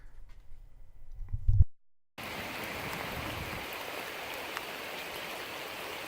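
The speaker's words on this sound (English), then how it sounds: "I went by this house and caught it during a rainstorm." A rainstorm over a house yard with water running across the ground, a steady wash of rain and flowing water after a brief muffled rumble and a short gap.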